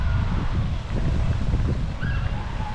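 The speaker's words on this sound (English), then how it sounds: "I'm curious what this wind is going to sound like on this camera" Steady wind buffets a GoPro Hero 11 Black microphone with a low rumbling roar, with faint water from fountains and distant whistling tones in the background.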